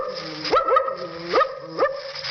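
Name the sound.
man imitating a suspicious dog barking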